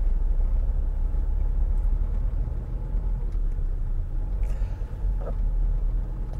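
A car drives through busy Sunday traffic, its engine and road noise forming a loud, steady low rumble from inside the vehicle, with faint brief clicks and no talking.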